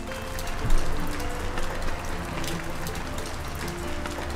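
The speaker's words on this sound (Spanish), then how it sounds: "que está lloviendo." Steady rain falls and patters on surfaces as a constant hiss, with occasional slightly louder drops and no voices.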